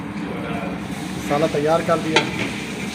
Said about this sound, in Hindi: साथ में हम इधर चने की दाल फ्राई कर रहे हैं।